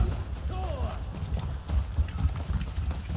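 Horse hooves clip-clop in a fantasy questing video game, a steady trotting rhythm under continuous talk, with a brief whinny-like tone early on.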